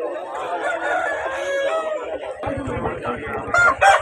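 A rooster crows at a Vijayawada rooster market, loud and close, with a second crow toward the end, while voices talk over it amid market chatter.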